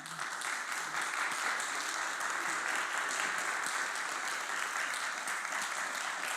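A church congregation welcomes a pastor with steady, dense applause at moderate loudness, sustained evenly throughout without voices over it.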